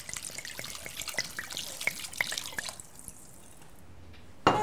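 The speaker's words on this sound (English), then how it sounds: "Now the wine, whole bottle, white." A whole bottle of white wine glugs and splashes steadily into a pot of Greek lamb stew, a close, liquid pour with dripping plops that stops near the end, followed by a brief clunk.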